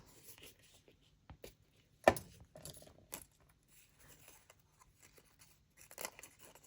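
Scissors snip paper pieces for a craft weaving project, a handful of sharp, irregular cuts and rustles spaced over several seconds, close and fairly quiet.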